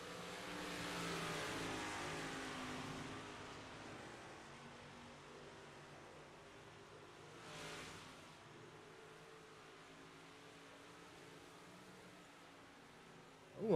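358 modified race cars run on a track, their engines a faint, distant steady roar with a swell of engine noise partway through.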